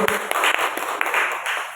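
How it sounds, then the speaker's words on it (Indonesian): A room of teachers clapping briefly for a presenter, a quick burst of scattered claps mixed with murmuring voices. "Beri tepuk tangan buat Bu Peti."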